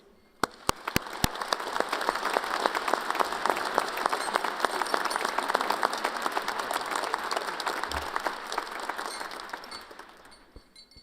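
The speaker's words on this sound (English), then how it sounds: "Please help me welcome Eric Gibson." Sustained audience applause at a Weber State University spring commencement; dense clapping swells, holds steady for several seconds, then thins out, with a few sharp claps at the start.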